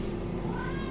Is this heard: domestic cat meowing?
yes